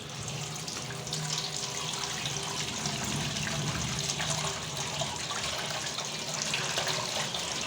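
Tap water runs steadily into a sink while sliced potatoes for crispy chips are rinsed, a continuous close splashing wash with no voices.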